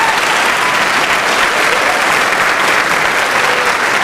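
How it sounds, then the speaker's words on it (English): Steady, dense applause fills a graduation ceremony crowd at Edgren High School, a loud continuous wash of clapping with no gaps. "A round of applause for this special group."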